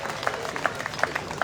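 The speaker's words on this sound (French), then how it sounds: "Applaudissements" Audience applause at a patronal festival's speeches in Le Robert, heard as a soft, continuous patter of clapping with brief louder bursts.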